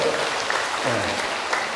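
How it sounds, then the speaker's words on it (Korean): Applause from a hall of delegates at a Korean community credit union workshop lecture, a dense, steady clatter of many hands lasting the whole stretch, with a faint voice murmuring underneath. "박수 한번 스스로 주십시오."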